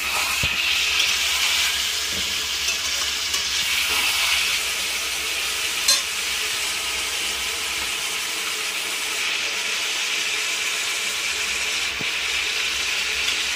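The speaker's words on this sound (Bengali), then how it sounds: "লবণ দিয়ে আবার একটু ভালো করে নাড়বো।" Afghani chicken with added salt is stirred in a frying pan, giving a loud, constant steamy sizzle and hiss with occasional faint scrapes throughout, and no voices.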